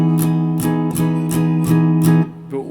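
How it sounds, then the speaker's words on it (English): Clean electric guitar with no chorus pedal, strummed in a steady rhythm of about six even chords that ring close and clear with bright attacks, then stop with a short final scrape. "Normally without a chorus pedal my guitar sounds like this."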